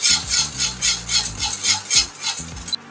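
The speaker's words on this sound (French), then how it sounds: "Et maintenant, on n'arrête pas de mélanger jusqu'à ce que ça s'épaississe." Pastry cream for cream puffs stirred steadily in a pot as it thickens, a close rhythmic scraping and swishing of a utensil against the pan with no voices.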